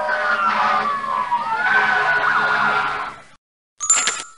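A fire engine siren from a 1999 PC game wails with rising and falling sweeps for a few seconds, then stops; after a short silence a brief tonal blip sounds.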